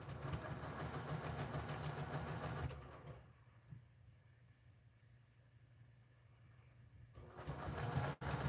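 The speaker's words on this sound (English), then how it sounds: "So now I'm going to sew these two together" Sewing machine stitching scrap fabric pieces together, a steady mid-pitched motor whir and needle rattle that runs, drops to near quiet for a few seconds, then starts up again.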